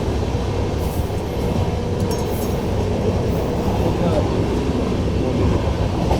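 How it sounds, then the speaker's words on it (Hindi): A late-running passenger train rolls along the rails, heard from inside the carriage as a loud continuous rumble with faint rhythmic wheel clatter and a little squeal. "लेट चल रही ट्रेन।"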